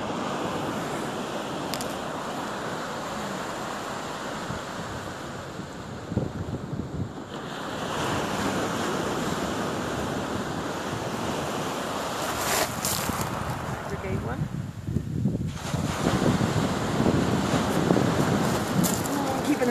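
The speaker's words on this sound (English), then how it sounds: "Oh, the sea's coming." Sea waves surge and break along a windy seaside promenade at Tramore, a steady broad wash of surf with gusty wind buffeting the microphone and swelling louder toward the end.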